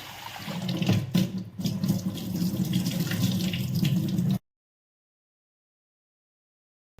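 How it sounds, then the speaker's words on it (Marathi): Tap water runs steadily into a sink as grapes are rinsed clean, a continuous close splashing flow that stops abruptly, leaving silence. "आता दोन तीन पाण्याने छान धुवून घेऊ आपण"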